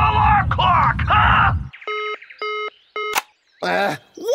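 Cartoon remote-controlled alarm clock gives several short, evenly spaced electronic beeps after a stretch of animated talking, with another voice following the beeps.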